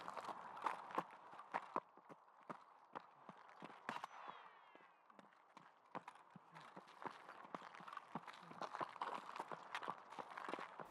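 Rapid in-game footsteps of a player character in Escape from Tarkov, circling around a bus, give a continuous run of sharp crunchy steps with uneven rhythm, moderately close, with brief pauses.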